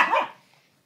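A single short dog bark, loud and close, fading quickly into quiet.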